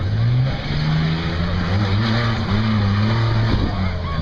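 A 1996 Ford Explorer from York, PA makes a drag strip pass, its engine a loud, steady roar with rising harmonic sweeps as it accelerates down the track.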